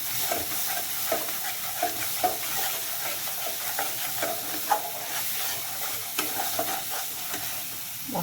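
Turmeric, salt and spices are stir-fried in a pan: a steady sizzle runs throughout, with soft, regular scraping and stirring clicks on top.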